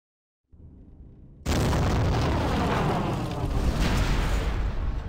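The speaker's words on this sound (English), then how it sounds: "Rolling away from that explosion like it was nothing." A video-game explosion in Star Wars KotOR2 erupts suddenly after a low rumble, bursting into a loud, sustained roaring blast that stays dense and harsh to the end.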